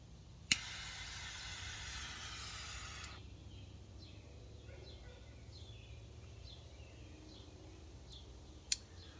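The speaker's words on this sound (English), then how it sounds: "Alright, we're going to cut and light." A Dunbarton Tobacco and Trust Bewitched cigar gets a sharp cutter snip, then a few seconds of steady torch-lighter hiss, followed by soft repeated puffs and a final click, heard quietly at close range.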